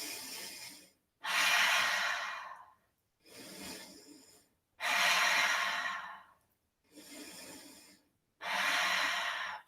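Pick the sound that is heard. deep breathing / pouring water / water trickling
deep breathing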